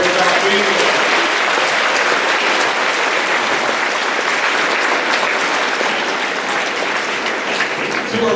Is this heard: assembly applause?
yes